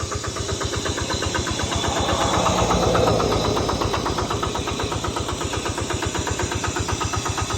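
A small Kubota 8-horsepower diesel tiller engine chugs close by with a fast, regular knocking beat, steady and loud throughout.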